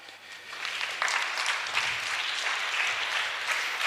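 Church congregation applauding at a Sunday service, a steady wash of many hands clapping at moderate distance that swells after the first second and holds evenly to the end.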